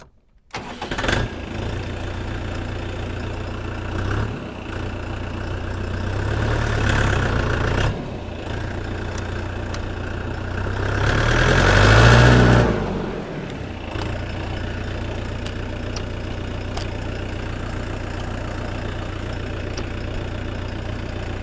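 A tractor engine starts and settles into a steady, close diesel idle, knocking low and even, rising twice in brief revs before returning to a constant rumble.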